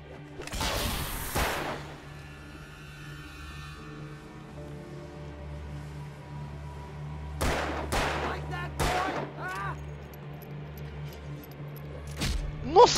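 Gunshots in the video game Alan Wake, a sharp burst at the start and then several quick separate shots later, loud against a low steady background hum.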